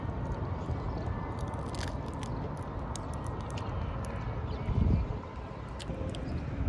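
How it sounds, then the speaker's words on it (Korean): One crisp, crunchy bite into flaky pastry in Lisbon, close and fairly loud, against a quiet background hiss. "겹이 근데 너무 바삭해서 진짜 다후두두두두두 떨어져요"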